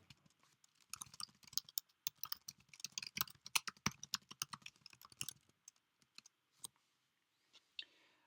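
Rapid bursts of computer keyboard typing clatter close by for about five seconds, followed by a few scattered isolated key taps.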